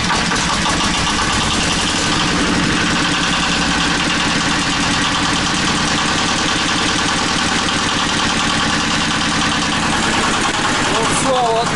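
Heavy TATA diesel walk-behind tractor engine idling steadily right after a pull start, a loud close continuous chugging rumble that stays even throughout, with someone talking over it.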